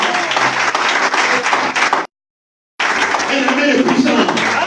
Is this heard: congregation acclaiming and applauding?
yes